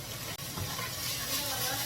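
Onion, mushroom and paprika stir-fried over high heat in a home kitchen, giving a steady soft sizzling hiss with one brief click, fairly quiet throughout.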